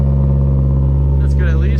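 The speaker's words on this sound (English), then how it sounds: "It might just be because it's a lightweight flywheel. It makes it like ping almost." A BMW E36 318i with an M42 four-cylinder and lightweight flywheel idles close by in a steady, even hum, and a voice briefly speaks over it near the end.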